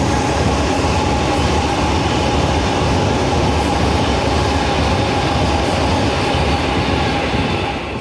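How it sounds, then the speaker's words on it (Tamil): Steady loud rumble of a passenger train arriving at a station in southern India, a continuous broadband roar with faint wheel clatter that holds evenly and eases slightly at the end. "அப்படியே நம்ம ட்ரெயின் வந்துருச்சுங்க"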